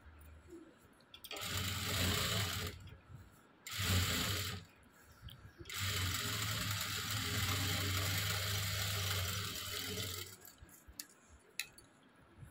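Sewing machine running a double stitch on a blouse, heard in three bursts of rapid mechanical whirring, the last and longest lasting about five seconds, separated by pauses with small clicks and handling noises.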